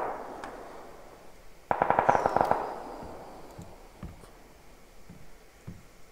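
Gunfire in the video game PUBG, a quick burst of several distant rifle shots followed by scattered single cracks, moderately faint against quiet ambient background.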